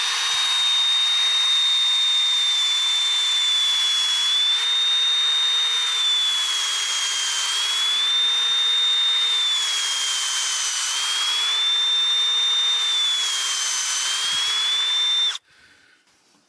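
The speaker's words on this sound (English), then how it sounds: "So we're gonna make another hole here." A power drill bores a tap hole a couple of inches into a maple tree for syrup, a steady high whine held close and loud for about fifteen seconds before cutting off abruptly.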